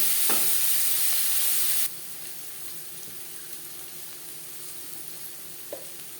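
Chopped onion stirred into hot tempering oil in a pan, a broad loud sizzle that suddenly drops to a quieter steady frying hiss, with a few light scrapes from the stirring spoon.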